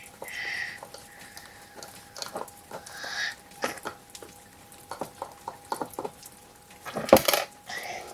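Ingredients for a home volcano experiment are mixed in a container, with irregular clinks, taps and scraping stir sounds, close and moderately loud, alongside a soft voice.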